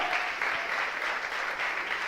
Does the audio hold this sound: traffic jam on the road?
no